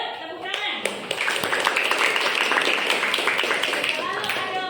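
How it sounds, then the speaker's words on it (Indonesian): A classroom of students clapping hands together in quick, fairly steady rhythm for several seconds, with voices and cheering mixed in over the clapping. "Tepuk tangan."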